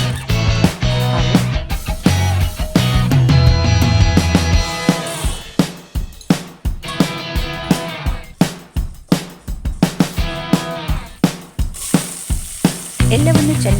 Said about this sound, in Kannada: ಎಲ್ಲವನ್ನು ಚೆನ್ನಾಗಿ ಫ್ರೈ ಮಾಡಿಕೊಳ್ಳಿ